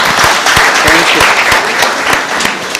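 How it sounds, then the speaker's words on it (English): Audience applause for a presenter at a social business design lab, a dense burst of clapping from a crowd, fairly close and steady, with one person speaking briefly over it. "Let's give a big applause for Helal."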